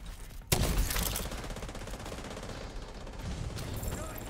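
Gunfire in a video game, a rapid burst of shots that starts abruptly and rattles on steadily to the end.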